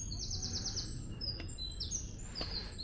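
Birds chirp softly in a hidden spot in Paris, with several short high trills and tweets over a low outdoor background hum.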